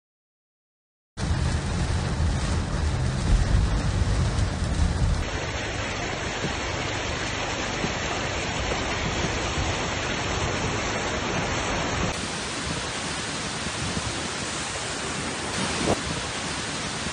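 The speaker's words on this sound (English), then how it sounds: "Heavy torrential rains caused flooding in Al-Aflaj province." Heavy torrential rain pours steadily during flooding in Al-Aflaj province, a dense, continuous roar that holds loud and unbroken for over fifteen seconds without talk.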